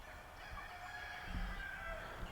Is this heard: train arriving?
no